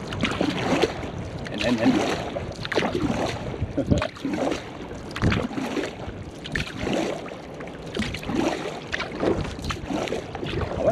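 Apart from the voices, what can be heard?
kayak paddling out on water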